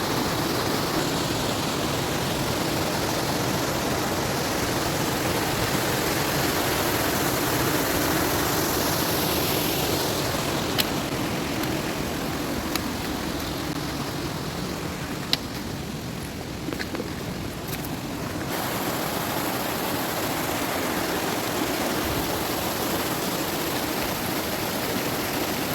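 A mountain waterfall on the trek from Gangotri to Kedarnath roars as a constant broadband rush of falling water, loud and unbroken for the whole stretch, with no voices.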